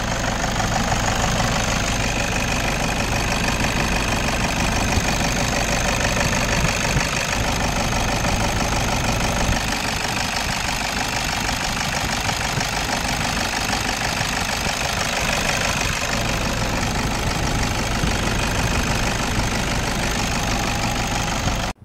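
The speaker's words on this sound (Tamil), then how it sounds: "இன்ஜினோட நாய்ஸை லைவாக கேளுங்க" A Toyota Innova's engine idles steadily and loudly, a continuous low mechanical rumble with faint knocking, unbroken for the whole stretch and no voices.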